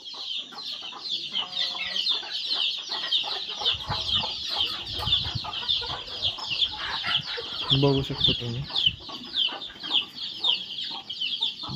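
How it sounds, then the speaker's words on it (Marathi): Broody hens sitting on eggs in a village poultry shed cluck constantly and close by, a dense chorus of calls with occasional wing rustles, while someone speaks briefly. "खुडालेल्या कोंबड्या बसवल्या अंड्यांवरती"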